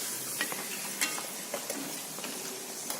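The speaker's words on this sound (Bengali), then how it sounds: "পাঁপড়টা তেলের মধ্যে দিয়ে কিন্তু এভাবে একটু টানতে হবে" Homemade rice papad frying in hot oil, a close soft sizzle with light stirring and a few clinks of a utensil against the pan, brief and without talk.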